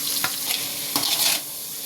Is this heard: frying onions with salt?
yes